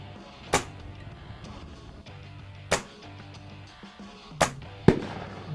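Airgun shots fired at a 50-yard target with a 2-inch restrictor during a competition, four sharp isolated cracks spaced a second or two apart over a low steady hum, fairly close and loud.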